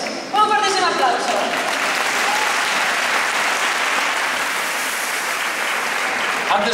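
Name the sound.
audience applause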